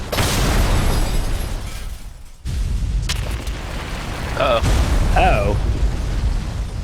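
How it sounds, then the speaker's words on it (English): A chandelier crashes down in the Professor Layton video game, a loud sustained crashing rumble that cuts off abruptly, followed by continuing debris noise and brief exclaiming voices. "And now he gets smashed by the chandelier."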